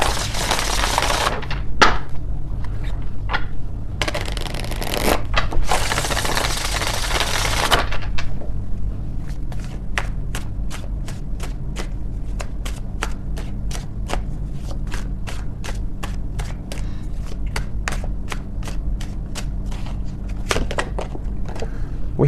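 Oracle cards are shuffled close up in long riffling bursts at first, followed by a steady run of quick light card flicks and taps that continues to the end.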